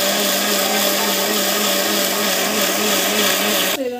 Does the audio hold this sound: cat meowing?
no